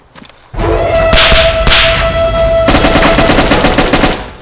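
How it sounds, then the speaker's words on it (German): Loud, close bursts of rapid automatic gunfire aimed at the player in DayZ, with sharp cracks and whipping shots that start abruptly and continue as a steady rattling volley. "Was schießt er auf mich?"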